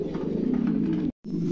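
Pigeons at a loft giving low, throaty pulsing coos, close and fairly loud, one continuous stretch broken by a brief cut of silence before the cooing resumes.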